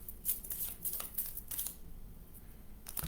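A deck of cards is shuffled quietly up close, heard as intermittent soft papery riffs and slides separated by brief gaps.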